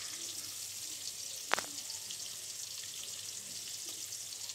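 Onion and garlic sizzling steadily in hot oil in a pan, a soft continuous frying hiss with one sharp clink of a stirring utensil partway through, no voices.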